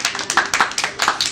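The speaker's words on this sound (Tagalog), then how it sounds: "Oy, palakpak!" A talk show audience claps in a quick, dense burst of overlapping handclaps, close and lively, with no voices over it.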